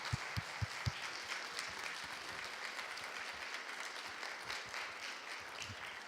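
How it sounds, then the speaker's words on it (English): Audience applause at a health and humanitarian logistics conference: a steady, sustained wash of clapping from a large crowd fills the room for several seconds, with no speech over it. "So I'll ask the conference chairs to just stand up and applaud you"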